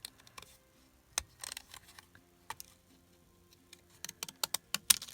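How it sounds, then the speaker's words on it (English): Paper card being snipped with small postage stamp scissors, a few separate crisp cuts spread across a quiet stretch, with sharp snips clustered near the end. "using my postage stamp scissors"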